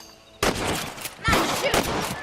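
Gunfire in the Western video game Red Dead Redemption: loud, close bursts of overlapping shots in two clusters, with a short gap between them.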